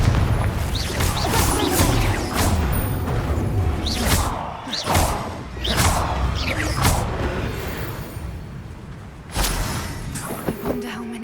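Several booming blasts and whooshes from spells, including the Confringo explosion spell, in the Hogwarts Legacy video game, arriving as a series of sharp impacts spaced a second or two apart over a rumbling background.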